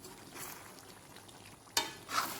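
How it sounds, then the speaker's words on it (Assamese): Meat being stirred in a wok (kadhai) over the heat, a low steady sizzle with a sharper scrape of the spatula against the pan near the end, then another brief scraping burst. "এখন হাতে লৰাই থকা কিন্তু বহুত কষ্ট হয় কেৰাহী মাত দি গৈছে"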